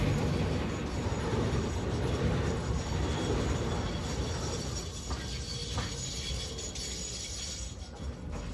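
Trains rolling along tracks in the factory-building game Satisfactory make a steady, continuous mechanical rumble with faint clanking. It stays fairly loud throughout and eases slightly toward the end, with no voices.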